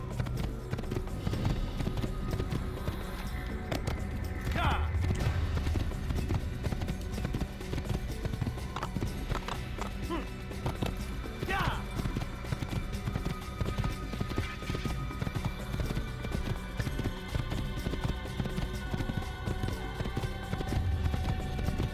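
Horse hooves clip-clop in the Assassin's Creed video game, a steady trotting rhythm of hoofbeats running continuously at moderate level under game ambience, with a few brief sharper accents.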